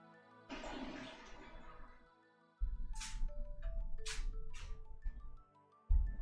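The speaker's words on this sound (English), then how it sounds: "that toilet flush sounds like it had to deal with Taco Bell" A toilet flush sounds close by: a rushing gurgle of water swells, fades, then gives way to the refilling tank trickling, with brief electronic tones over the water toward the end.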